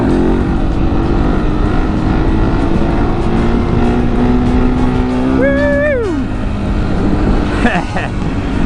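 A KTM 701 motorcycle engine runs loud and close in third gear during a wheelie, a steady roar that climbs in pitch as the rider revs, then drops sharply on a gear change.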